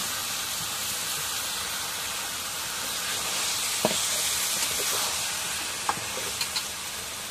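Meat sautéing in a pan, a steady broad sizzle and hiss throughout with occasional louder pops and stirring clicks, close and continuous.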